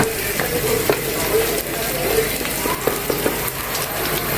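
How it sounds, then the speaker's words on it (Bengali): Onion, ginger and garlic hit hot oil in a pan, giving a steady crackling sizzle with occasional scraping stirs and small clinks, close up and with no talk. "এখানে আমি তেল দিয়ে পেঁয়াজ আদা রসুন এগুলো দিয়ে দিচ্ছি"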